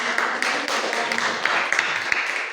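Classroom group applauding a student named Ferry during a teacher training session, a steady wash of many hands clapping at moderate loudness with occasional sharper individual claps.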